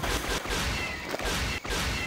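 Main cannon of an AT-ST walker firing in the Jedi Outcast video game, a loud, dense burst of blasting booms that fills the whole moment, with brief dips between shots.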